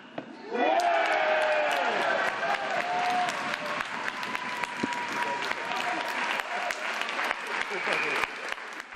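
Crowd of club members and family applauding and cheering a tennis player, Hugo Schott, just after he wins on match point; loud, sustained clapping rises suddenly and continues steadily with scattered voices throughout.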